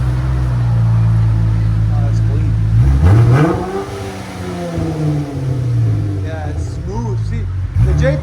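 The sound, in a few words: 2019 Dodge Challenger SXT 3.6L V6 with glass packs exhaust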